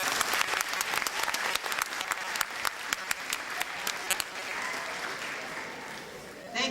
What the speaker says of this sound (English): Let's take a round of applause.